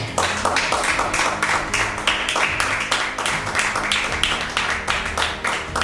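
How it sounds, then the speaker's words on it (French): Congregation at a French-language church service clapping and cheering for Jesus, a dense, continuous wash of rhythmic handclaps from many people filling the room without pause. "Acclamons très fort pour Jésus."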